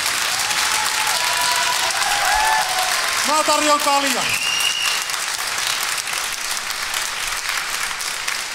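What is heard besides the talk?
audience applause at fight event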